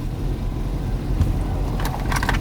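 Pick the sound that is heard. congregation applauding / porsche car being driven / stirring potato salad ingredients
porsche car being driven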